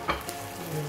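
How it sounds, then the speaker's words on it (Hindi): Onions fry in a pan for chicken chilli fry, a close, continuous sizzle with a quick stirring scrape at the start, heard alone with no talk. "फ्राई कर रहे हैं"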